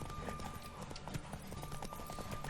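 A horse gallops in The Witcher 3: Wild Hunt during a race, its hooves giving a fast, steady clip-clop rhythm at moderate distance over a low game soundscape, with no talk.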